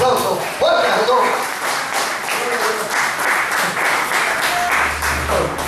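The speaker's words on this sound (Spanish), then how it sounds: "Denle un aplauso fuerte a todos." A church congregation applauds in a steady, dense wash of clapping that carries loud and even for several seconds, with some voices mixed in.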